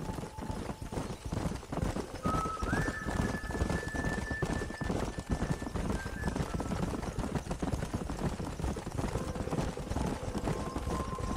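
Hooves clip-clopping in a steady rapid rhythm while riding among wild horses in the Red Dead Redemption video game, accompanied by a sustained tonal music line and occasional faint whinny.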